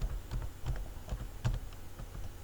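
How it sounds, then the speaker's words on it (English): Keys tapped on a computer keyboard while filling in cells of a spreadsheet table, a series of quiet, close clicks in an uneven typing rhythm with no talking. "So here we will press the tab key"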